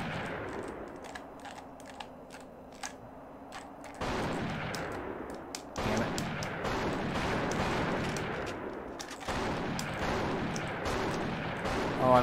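Sniper rifle fire from the video game The Thing, a series of sharp reports spaced out over the span with dense gunfire-like bursts and background game ambience.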